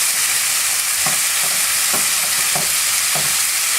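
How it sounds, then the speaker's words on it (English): Spatula scraping and breaking up cooked fish in a sizzling pan for tacos, a steady fry hiss with soft rhythmic scrapes and taps about every half second, no talking. "take the spatula and delicately bust up that fish a little bit so it's easier to work with"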